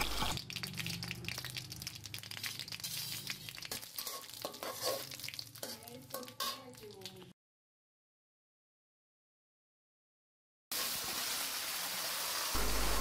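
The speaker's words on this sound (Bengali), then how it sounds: "এগুলোকে ভেজে নিয়ে দিয়ে দিচ্ছি আগে থেকে পরিষ্কার করে রাখা বড়াইগুলো" Bay leaves, five-spice and dried chilies frying in hot oil for a jujube pickle, a steady close sizzle with stirring clicks as jujubes go in, then a sudden silence before the sizzle resumes.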